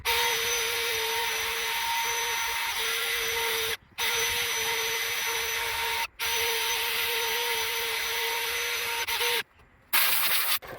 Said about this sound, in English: wire brush attachment. I'm gonna clean it this way